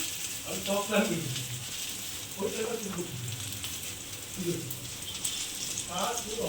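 Potatoes and green banana fry in oil with turmeric, a steady close sizzle running throughout while someone talks over it in short phrases.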